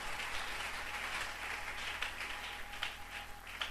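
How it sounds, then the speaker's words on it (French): A Sunday church congregation claps and applauds in a dense, steady wash of sound that holds the whole time, with no one speaking over it. "Acclamons très fort pour la gloire du Seigneur."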